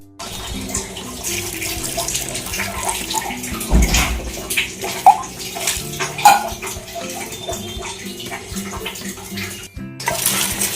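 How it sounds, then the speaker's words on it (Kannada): Water poured into a pot of boiled lentils for sambar, a splashing, gurgling pour with a few clinks of utensils against the pot, close up and without speech. "ಸ್ವಲ್ಪ ನೀರು ಹಾಕ್ಕೊಳ್ಳಿ."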